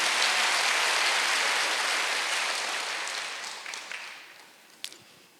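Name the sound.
church congregation clapping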